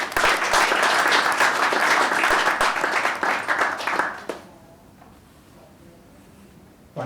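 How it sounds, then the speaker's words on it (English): An audience at an elite athletes' press conference applauds loudly for about four seconds, dense clapping that quickly fades to a quiet room with faint murmurs. "Tish Jones, a round of applause."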